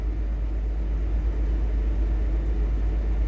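A truck engine rumbles low and steady while driving, heard from inside the cab as a constant heavy drone with no voices over it.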